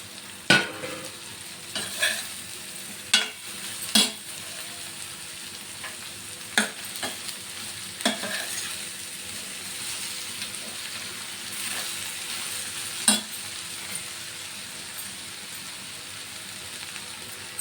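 Ridge gourd pieces sizzle in a hot pan, with irregular sharp scrapes and clanks from a spoon stirring them over a steady frying hiss.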